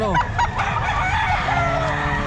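Roosters at a live poultry market in Bocaue: a close, loud crow rising and falling over clucking, with more crowing from other birds nearby, continuous for a couple of seconds.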